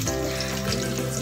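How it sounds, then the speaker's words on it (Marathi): Garlic frying in oil in a pan until brown makes a loud, continuous close-up sizzle and crackle over a short stretch. "या तेलामध्ये थोडासा लसूणाचा थोडासा ब्राऊन होईपर्यंत"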